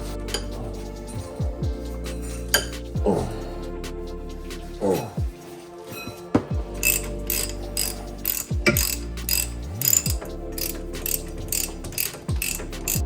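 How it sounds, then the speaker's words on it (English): Ratchet clicking in quick bursts while loosening the brake caliper bolts on a BMW 325i E91 estate, close and alone, with metallic tool clinks between the ratcheting runs. "Let's take off this caliper."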